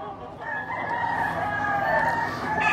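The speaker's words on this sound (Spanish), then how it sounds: "Un gallo claret de los de Junior Bell" A claret gamecock of the Junior Bell line crows once, a loud drawn-out call lasting nearly the whole moment, close by with faint background noise.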